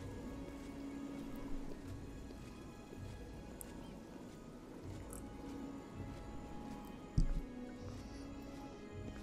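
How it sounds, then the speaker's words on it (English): Steady rain falling in the fantasy game Oblivion, a soft continuous hiss with faint drips, plus a brief louder thump partway through; no talking. "I think it looks like the rain is stopping."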